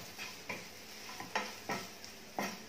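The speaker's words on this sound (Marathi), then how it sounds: "आणि पुन्हा याला छान परतून घ्या" Kashmiri red chili powder being sautéed in oil, a spoon scraping and stirring the pan in about six distinct strokes over a faint sizzle, close and fairly quiet.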